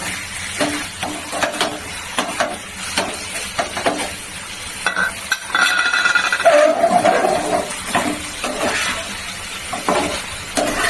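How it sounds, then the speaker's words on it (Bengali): Fish curry with ridge gourd, capsicum and potato is stir-fried in a pan: loud, close sizzling punctuated by repeated scraping and clanking strokes of a spatula, with bursts of hissing as the mixture is turned. "ভালো করে কষিয়ে নিচ্ছি"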